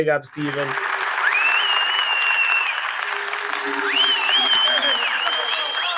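A crowd sound effect of sustained applause and cheering carries long, rising whistles on top. Two clear whistles stand out over the dense, loud crowd roar.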